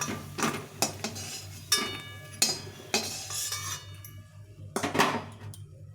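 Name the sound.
frying remaining fritters, utensil scraping in pan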